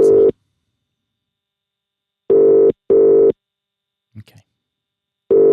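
Phone ringback tone while a call waits for an answer: long, steady electronic beeps repeating with gaps of silence, loud and close, with a brief faint sound in one gap.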